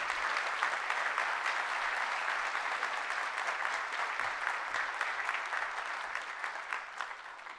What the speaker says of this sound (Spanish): Quiero pedir un aplauso para ellos, por favor.